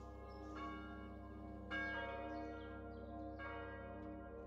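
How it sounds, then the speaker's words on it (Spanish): A church bell rings out, several resonant strikes with long humming decay, heard clearly and alone. "el sonido de la campana marcaba el tiempo para la comida comunitaria"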